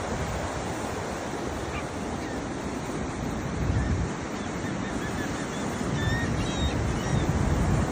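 Ocean surf washing in as a steady, broadband roar, rising and falling only slightly, with wind buffeting the microphone throughout and no voices.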